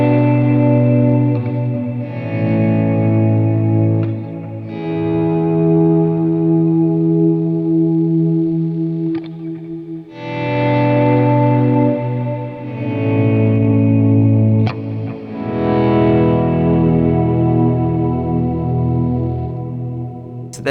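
Shimmer plugin on an electric guitar producing a lush pad tone, chords swelled in gradually with a volume pedal, sustained reverberant washes rising and fading in several long phrases, played alone.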